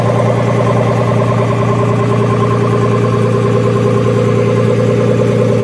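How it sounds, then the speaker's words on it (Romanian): A BMW E46 converted to M3 spec with 402 hp and a fully modified exhaust idles loud and close, a steady deep throbbing burble with no talk over it. "E grozav sunetul, ai o evacuare modificată integral"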